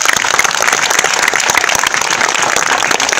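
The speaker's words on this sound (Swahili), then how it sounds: "Tumpige makofi tena." Audience applause at a Mama TV event, dense steady clapping from a crowd filling the whole stretch at an even loud level.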